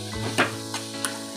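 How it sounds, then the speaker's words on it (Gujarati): Chilli gets stirred into a pan of leftover roti noodles and vegetables over a low sizzle, with a few sharp scraping clicks from the utensil against the pan. "હવે આને બરાબર મિક્સ કરી નાખીએ."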